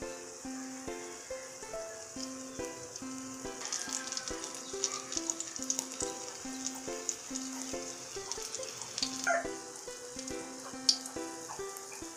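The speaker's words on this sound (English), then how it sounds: "Fry banana mix until golden brown." Banana fritters (maruya) fry in hot oil with a steady crackling sizzle and scattered pops, close by, while light music plays throughout.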